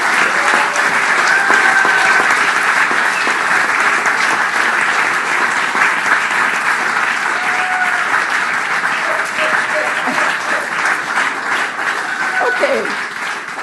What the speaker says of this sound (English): give a big applause for them